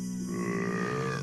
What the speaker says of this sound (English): Apparently we just drank it and we burped